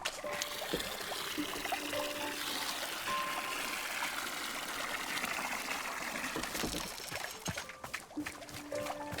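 Water pours and trickles in the video game Wanderstop, a steady running splash heard close and fairly quiet, with small chimes and game tones layered over it.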